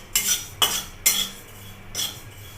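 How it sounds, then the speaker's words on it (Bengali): Whole cumin seeds dry-roasting in a dry pan for a taro curry are stirred with a metal utensil, giving four sharp scraping strokes at uneven intervals, close and clear, with no talk. "শুকনো খোলায় গোটা জিরে ভেজে নেব।"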